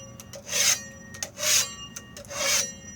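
Three rasping scrapes of a tool across a 3D printer hotbed, clearing off debris, each stroke lasting about a quarter second and spaced roughly a second apart, close and clear with small taps between them and no talking.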